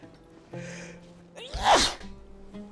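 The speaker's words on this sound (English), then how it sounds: "I sneezed so hard" A single loud, sharp sneeze bursts out close by after a quick intake of breath, against a quiet background.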